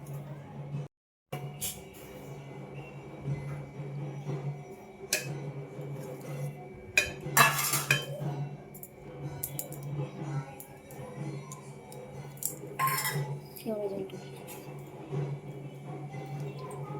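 A metal cooking pot and utensils clatter and scrape intermittently while biryani is layered with onion and meat, with scattered clinks and a couple of sharper knocks over a steady low background hum.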